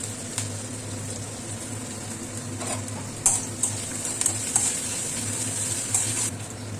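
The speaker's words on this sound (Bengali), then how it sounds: "একটু নাড়াচাড়া করে নিলাম, একটু ভাজা ভাজা হয়ে গেল" Green chilli, grated ginger and a pinch of asafoetida sizzle softly in hot oil, with a steady low hum and a series of light utensil taps and scrapes from stirring in the latter half.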